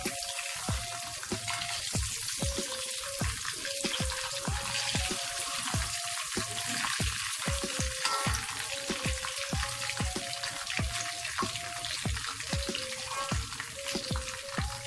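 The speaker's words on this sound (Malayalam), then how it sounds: "അത് നമുക്ക് അതുപോലെ വറുത്ത് കോരിയെടുക്കാം." Chicken pieces for biryani frying in hot oil, giving a steady, close hiss and crackle throughout, with a repeating melodic tune running underneath.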